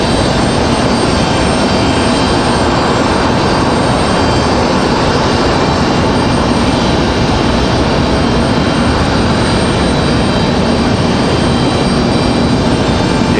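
A jet airliner, likely United, departing Raleigh-Durham airport, its engines producing a loud, continuous broadband roar that holds steady throughout without fading.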